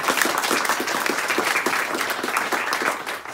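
Audience applause for vaccination centre staff at a community vaccination centre in Thomery, a steady dense wash of many hands clapping close by with no pause.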